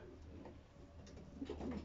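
Soft cooing of pigeons in a breeder's loft, low and murmuring, rising a little toward the end over a steady background hum.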